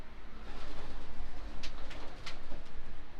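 Racing pigeons in a loft cooing close by, soft repeated throaty coos over low background rumble, with a few sharper calls near the end.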